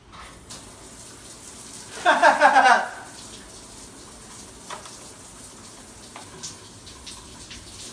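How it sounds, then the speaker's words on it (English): Hot water runs from a shower in a brief, close gush lasting under a second, followed by quiet room tone with faint scattered knocks. "I guess the hottest water is gonna come from the shower."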